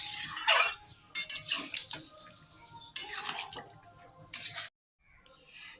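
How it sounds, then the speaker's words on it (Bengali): Water poured into a pan of shol fish and potatoes being cooked down for kalia, a bright splashing rush with bursts of sizzle that stops abruptly before a quiet simmer. "এখন এর মধ্যে আমি জল দিয়ে দেব।"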